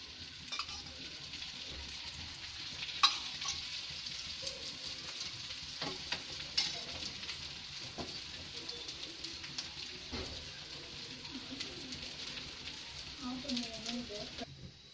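Sorghum adai batter spread on an oiled dosa griddle sizzles with a soft, steady frying hiss, heard faint and close throughout, with a few light scraping clicks.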